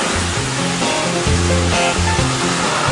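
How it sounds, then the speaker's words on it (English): A strong water jet washing a street sprays with a loud, continuous rushing hiss, a powerful steady blast throughout. "I'm going to do them up with the liquid and gel, and then we'll spray them off again"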